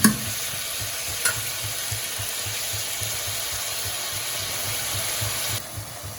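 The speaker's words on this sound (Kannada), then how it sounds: "ಚೆನ್ನಾಗಿ ರೋಸ್ಟ್ ಆಗಲಿ." Masala for a Naidu-style mutton curry roasts in a pan with turmeric and salt, a steady close sizzle broken by regular scraping stirs and a couple of sharp knocks, no talk.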